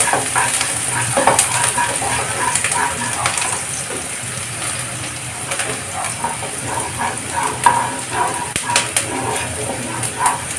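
Onions frying over a medium gas flame while being stirred in a pan, with a continuous close sizzle broken by irregular spoon scrapes and clinks.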